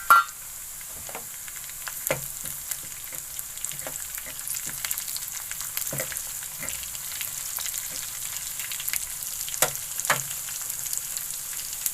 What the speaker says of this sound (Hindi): अब इसको मैं थोड़ी देर भून लूंगी